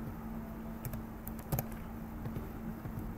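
Typing on a computer keyboard while programming motor speed: a few scattered, faint key taps and clicks over a low steady hum, with a brief cluster of quicker presses in the middle.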